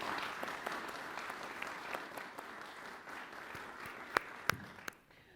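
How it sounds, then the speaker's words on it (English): An audience at a Vermont candidates' roundtable applauds the candidates: steady, dense clapping from a modest crowd, a few loud close claps standing out near the end before it fades away. "You can give them each a round of applause."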